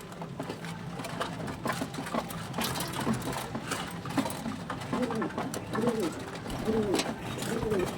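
Pigeons coo in soft, repeated rolling phrases that come closer together and grow clearer toward the end, over a low background hum and someone talking.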